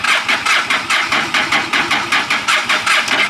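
A motorcycle engine cranking over repeatedly without catching, a fast rhythmic churning from the starter, loud and close, steady pulses throughout with no speech.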